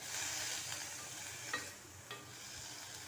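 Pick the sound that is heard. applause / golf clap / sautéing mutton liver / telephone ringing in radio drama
sautéing mutton liver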